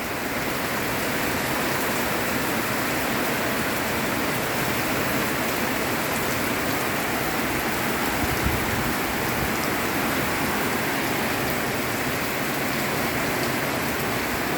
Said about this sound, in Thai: ตกหนักตกแรงมากเลย ฝนตกมากนะ